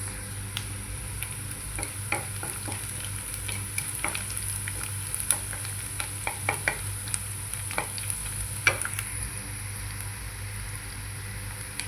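Tempering for a brinjal and dried fish curry sizzles quietly in a pan under a low background hum, punctuated by irregular light clinks and scrapes of stirring.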